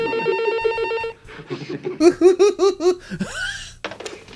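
An electronic telephone ring with a steady tone opens a 1991 French comedy film scene, followed by bursts of giggling, laughter-like sounds and other lively noises.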